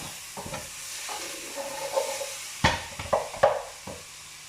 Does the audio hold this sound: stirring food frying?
yes